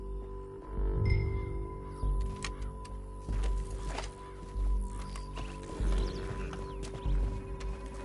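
Horse hooves clip-clop in Red Dead Redemption 2, a run of heavy rhythmic hoofbeats with faint tack jingling and a brief whinny, set against a low game music drone.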